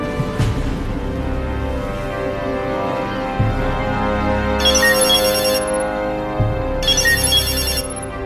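A phone rings in a drama scene: a bright, repeating electronic ringtone sounds in close, loud bursts over a steady low background.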